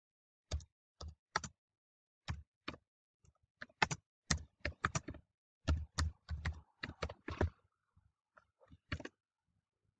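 Someone types text on a computer keyboard in sharp, close clicking bursts with irregular pauses between short runs of keystrokes, heard alone against a quiet background.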